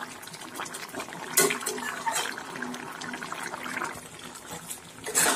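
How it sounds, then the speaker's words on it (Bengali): Bottle gourd stalk curry bubbling uncovered in a pot, a continuous wet burbling and gentle popping with a few louder splutters, close by and fairly quiet, with no voices. "খুলে এবার আমি আর ঢাকা দেব না, এইভাবেই তরকারিটিকে আরো 5 মিনিট ফুটতে দেব।"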